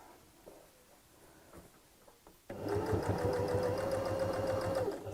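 After a few quiet handling sounds, a sewing machine starts up and runs in a steady, close, continuous whir, stitching along the edge of a tote bag.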